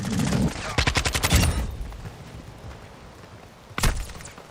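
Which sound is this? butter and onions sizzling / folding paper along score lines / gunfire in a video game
gunfire in a video game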